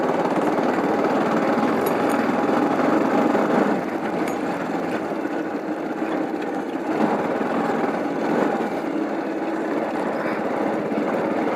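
A motorcycle engine drones steadily and continuously while riding along a muddy dirt road, with a buzzing, slightly uneven throb and light rattles throughout.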